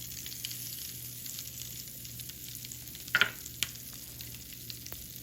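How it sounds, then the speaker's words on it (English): Steady faint fizzing and sizzling from Pop Rocks reacting in vinegar, a soft continuous hiss with a brief louder crackle midway. "Do you hear the sizzling?"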